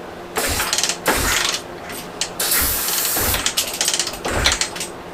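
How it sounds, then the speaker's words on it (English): Repeated kick-starting of a Honda CB500 motorcycle with a dead battery: several loud mechanical strokes and clattering pushes in bursts, close up, with no engine catching. "this bike does have a Kickstarter, so I might as well try to start it, right?"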